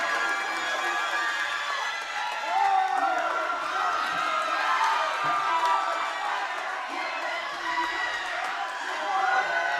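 A large crowd roars and cheers steadily at a powerlifting national championship as a lifter attempts a 360 kg lift, a dense wash of shouting and whooping that never lets up, with a commentator's voice faintly mixed in.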